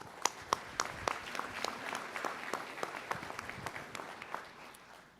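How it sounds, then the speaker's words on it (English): A crowd of faculty and staff at a university all-hands meeting bursts into applause: dense, steady clapping from many hands, with a few sharper claps popping out over the sustained patter for about five seconds. "give yourselves a round of applause"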